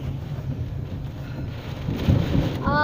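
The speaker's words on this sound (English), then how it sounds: "A storm, baby. Yeah, a storm." A storm with wind and rain, heard as a low rumbling roar and heavy wind buffeting the microphone that grows louder toward the end, with no clear talk.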